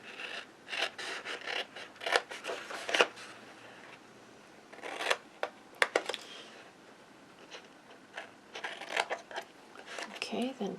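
Scissors cutting a tab on a cardboard advent calendar box, a series of close crisp snips and crunching cardboard cuts in irregular bursts, with scraping handling sounds between.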